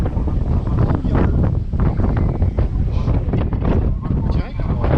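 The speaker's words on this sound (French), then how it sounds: "Alors là, on voit le vent, on le sent, il est bouillant, c'est trop bouillant." Hot east wind on La Gomera buffets the microphone in loud, continuous gusty rumbles that swell and dip across the whole stretch, with faint watery background beneath.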